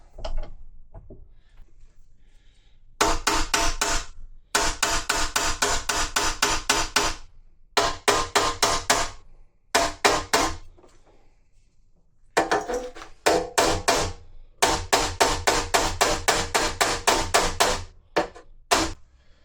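A 1932 Ford metal firewall is hammered over a T-dolly clamped in a vise, with rapid bursts of sharp metallic blows, close and loud, separated by short silent pauses.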